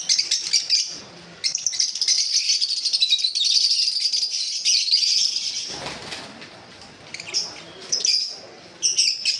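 Dense, continuous high chirping from many small caged lovebirds, java sparrows and cockatiels close by, with brief flutters of wings and short pauses in the chatter.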